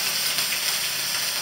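Broccoli and beef sizzle in a very hot wok, a steady dense hiss of frying with crackling spatter running throughout, close and fairly loud, with no voices.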